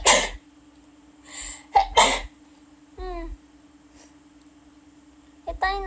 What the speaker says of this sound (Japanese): くしゃみしちゃった。